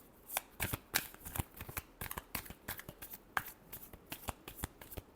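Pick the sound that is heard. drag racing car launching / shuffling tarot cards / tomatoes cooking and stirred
shuffling tarot cards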